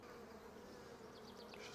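Honey bees buzz around a hive in a faint, steady drone, with a slightly louder swell of buzzing at the very end.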